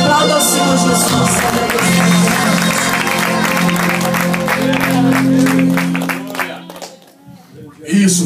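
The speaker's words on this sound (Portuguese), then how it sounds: "Aplauda ao Senhor Jesus." A church congregation applauds during a service, with sustained dense clapping under a loud preacher's voice and music, fading out near the end.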